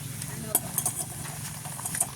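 Vegetables boiling in a covered pot over a village cooking fire give a steady, soft bubbling hiss, broken by a few light metallic clinks close by.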